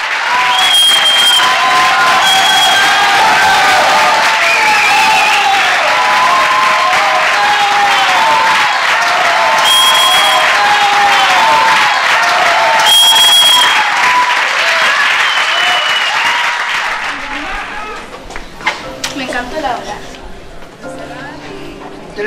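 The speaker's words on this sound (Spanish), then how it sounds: "el aplauso del público fue tal que los actores solo atinaron a" A theatre audience applauds and cheers loudly for a long stretch, a thick sustained roar of clapping with shouts rising through it, then thinning out and breaking into scattered claps and noise near the end.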